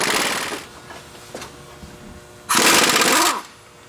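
A pneumatic impact wrench on a vehicle's steering linkage, loosening the nuts on the pitman arm and idler arm, rattles in a short loud burst, then a brief faint tap, then a second hard sustained burst close up.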